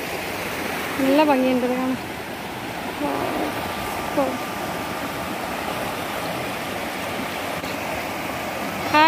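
Water flowing down from Seethar Kund in a stream at a Palakkad beauty spot, a steady broad rushing wash that runs throughout, with people talking over it.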